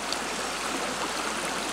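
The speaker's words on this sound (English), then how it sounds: "find the sound of water running." A mountain stream runs in the foothills of Mount Kilimanjaro, giving a steady, close rush of flowing water with an even hiss and no voices.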